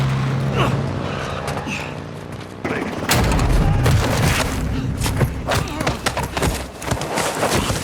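A Call of Duty Modern Warfare 2 cutscene firefight: an initial stretch of action gives way to loud, dense gunfire and booming impacts, with shouting voices mixed into the chaotic battle.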